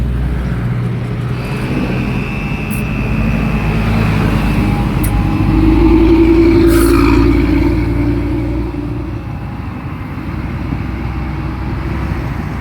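A low-powered 6m70 truck engine revving hard at high RPM while standing still, a loud, steady roar with a deep rumble that swells in the middle and eases slightly toward the end.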